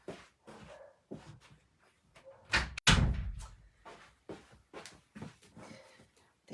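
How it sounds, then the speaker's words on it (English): A door being shut indoors, a sharp, loud thump near the middle standing out among scattered dog barks and whimpers in a home craft room. "I'm gonna close the door here."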